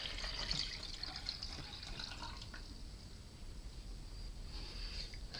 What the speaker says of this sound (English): Let's go ahead and get the water poured.